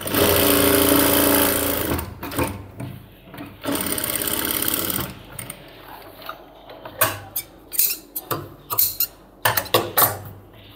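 A sewing machine stitches along the edge of a cargo half pant, running in loud, fast bursts of needle chatter with brief pauses, then shorter, sharper clicks and taps toward the end.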